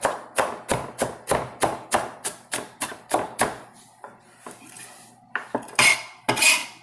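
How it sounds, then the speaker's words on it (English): Knife chopping turkey necks on a board, about a dozen sharp, evenly spaced thuds close up, followed by looser clatter and metallic clinks of utensils and dishes. "take the end, and you just want to chop"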